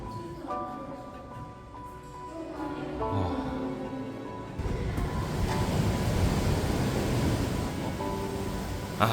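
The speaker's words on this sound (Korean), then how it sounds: "파도 소리가 싸 하고 들려오는데" Sea waves wash in near a seaside war memorial hall above a beach, a soft surf hiss that swells louder in the second half, with wind noise on the microphone.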